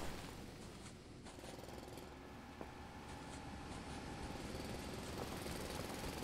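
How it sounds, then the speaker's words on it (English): Steady rumbling, grinding drone of a drill boring through the ground in the video game Foundry, continuous and loud throughout with a faint tonal whine and occasional clanks. "you can just keep on drilling too"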